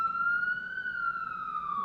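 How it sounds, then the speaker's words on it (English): An ambulance siren sounds at a steady, loud level with a single slowly gliding wail that rises and then falls as the vehicle passes by, with no voices over it. "there's an ambulance, of course"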